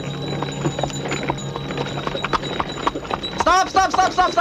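Horse hooves clip-clop in a steady rhythmic patter, close and clear, with a horse's whinny rising near the end and voices talking in the background.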